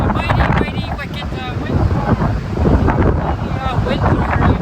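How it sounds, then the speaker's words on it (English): Strong winter storm wind buffets the microphone while heavy waves crash onto the shore along Dallas Road in Victoria, British Columbia, a continuous loud roar of surf and gusts with a voice faintly underneath. "Waves crashing right up here."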